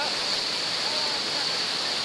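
A waterfall on the San Lorenzo River roars as a steady, dense broadband rush, loud and unbroken throughout, with no distinct splashes standing out.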